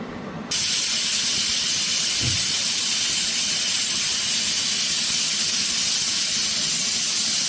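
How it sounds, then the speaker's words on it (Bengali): A pressure cooker venting steam while cooking chickpea curry, a loud sudden hiss that bursts in after a moment of quiet and holds steady and forceful, with no voices. "এবার আমি এটাকে আরও 2 থেকে 3টে স্টিম দিয়ে নেব।"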